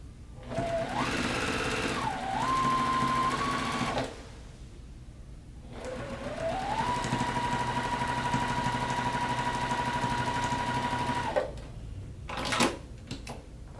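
A JUKI sewing machine stitches a pillow fabric seam in two steady whirring runs, each ramping up to speed and holding there, with a short pause between them and a few soft clicks at the end.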